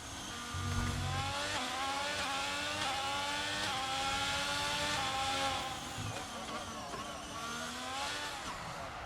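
F1 racing video game car spinning out at the last corner, a steady high engine whine rising and falling in pitch with tire squeal, loud and continuous throughout, with a voice faintly underneath.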